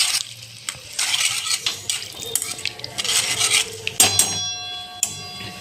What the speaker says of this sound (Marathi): मिक्स करून घ्यायचं आपण सगळं